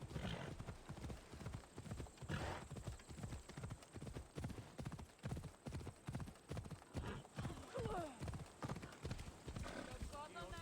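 Hooves clip-clop in a steady galloping rhythm as a horse is ridden in the video game Assassin's Creed Odyssey, with a brief neigh, while someone talks over it throughout.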